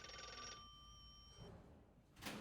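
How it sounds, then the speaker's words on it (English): An old-fashioned telephone bell rings in a police chief's office in the murder-mystery game Vaudeville, a rattling trill for about half a second, then a thin fading tone, followed by a soft click and a rustle. "Is someone going to answer the phone?"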